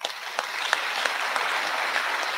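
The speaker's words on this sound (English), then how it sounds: "And I think you deserve another round of applause." Steady applause from an audience at an induction ceremony for newly inducted medical and dental practitioners, with dense clapping and a few sharper individual claps standing out, no talking.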